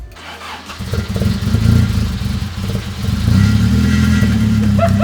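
A Toyota AE86 engine is cranked over, giving a loud, rhythmic starter churn. The engine then catches and settles into a steady, close, rumbling idle.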